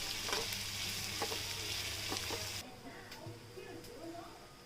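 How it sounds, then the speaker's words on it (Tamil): Steady sizzling of onion and garlic sautéing in a pan, with a low hum that cuts out partway, followed by quieter crackling and a few light clicks. "நறுக்கி வச்ச பூண்டும் சேர்த்து வதக்கிக்கலாம்"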